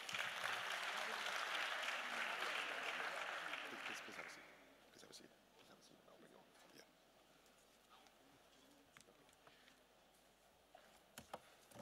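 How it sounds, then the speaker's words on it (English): An audience applauds to welcome a speaker at a Ghana diaspora event: dense, loud clapping for about four seconds, then fading into quieter room noise with scattered claps and faint talk. "Let's welcome him with a round of applause"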